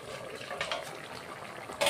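Mustard fish curry with shorshe and bata fish bubbling in a pan, a soft, steady watery simmer with low gurgles and a brief louder burst near the end, no voices.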